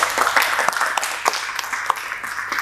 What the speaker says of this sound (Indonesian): Boleh tepuk tangan sekali.